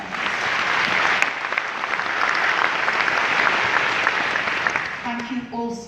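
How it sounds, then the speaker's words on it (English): A conference audience applauds themselves at a community event, sustained broad clapping for several seconds that tapers off, with a voice starting to speak near the end. "Please applaud yourselves."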